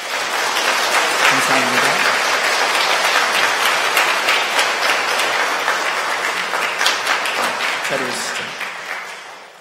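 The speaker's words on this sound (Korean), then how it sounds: "함께 일어나시면 박수로 환영해 주시겠습니다." A church congregation at a Sunday joint worship service applauds to welcome a choir and its conductor. Steady, dense clapping runs throughout while a voice speaks briefly over it near the start and again toward the end.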